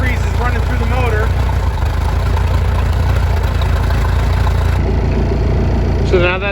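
A Mercruiser 3.0 135 hp engine in a Bayliner 185 idles steadily while pink antifreeze runs through it during winterizing. The constant low engine rumble continues under a person talking.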